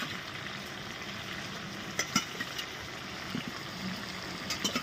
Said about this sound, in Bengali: দিয়ে আবার আমরা কিছুক্ষণ কষতে থাকবো।